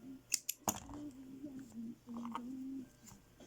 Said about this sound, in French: une maille en l'air supplémentaire et on coupe le fil